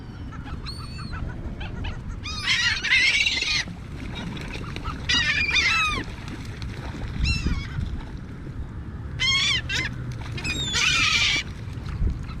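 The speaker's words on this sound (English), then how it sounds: "It's just a bird." Several bursts of loud honking duck calls ring out over a steady outdoor rumble, coming in clusters with pauses between them.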